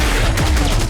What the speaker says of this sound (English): Yes, Coots, let's shoot it